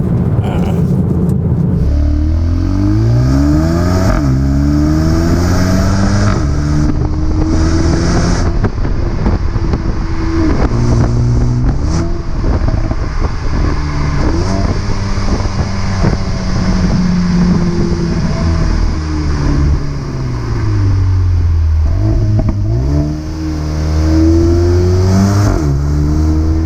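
Mercedes-AMG A35 engine while driving, loud and continuous, its pitch climbing and falling through rising revs and gear changes for the whole stretch, with no talk over it.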